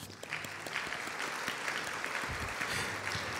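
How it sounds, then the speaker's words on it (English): An audience at a high school band spring concert applauds the superintendent of schools, a dense, steady patter of clapping that holds at an even level throughout. "Give him a round of applause."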